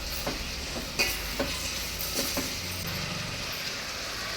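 Mixed vegetables frying in oil for vegetable kurma, stirred in a pan: a soft, steady sizzle broken by several sharper scraping strokes of the spoon, heard close up without speech.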